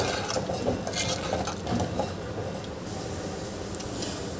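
Pumpkin curry (kohla rassa bhaji) being stirred in a pot after hot water is added, a faint, continuous wet squelching and scraping close by, with no talking.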